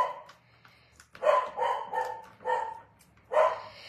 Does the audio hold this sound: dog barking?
yes